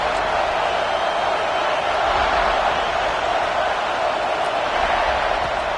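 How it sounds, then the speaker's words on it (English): A stadium crowd at a football game makes a loud, steady roar that fills the whole stretch without clear breaks. "This crowd ready to make its presence known."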